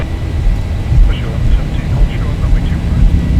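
Boeing 737-800 jet engines spooling to takeoff thrust in the X-Plane 12 flight simulator, a loud, steady low roar that continues under cockpit voices.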